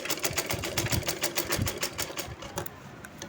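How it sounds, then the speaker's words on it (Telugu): A sewing machine runs at a steady fast pace, stitching a cut-work blouse neckline on buckram; the close, loud rapid needle chatter eases off toward the end. "ఈ విధంగా నీట్గా స్టిచ్ చేసుకోవాలి చూడండి"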